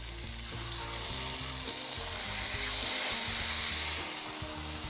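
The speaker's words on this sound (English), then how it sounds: "Stick it into the nice hot pan, and it's gonna caramelize really beautifully." A lemon half sizzles and fries cut-side down in a hot pan, a steady, dense crackle that holds at an even level throughout with no voices.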